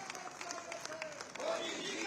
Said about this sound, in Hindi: जहां प्रधानमंत्री नरेंद्र मोदी के लिए तालियां बजाई जा रही हैं